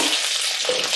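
Green chillies frying in sesame oil with fenugreek seeds for a Kongu-style trevally fish curry, a loud, dense, close sizzle that holds steady throughout the short moment.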